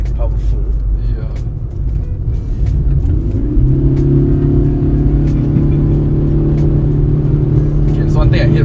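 Cabin sound of a Proton Iriz 1.6 Premium with a CVT gearbox accelerating: engine drone climbs and then holds at a steady, rising pitch, with a person talking over it inside the car.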